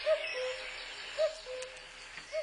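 A cuckoo calls in woodland, three short two-note hoots spaced about a second apart, fairly faint and distant over a soft, steady hiss of ambient background.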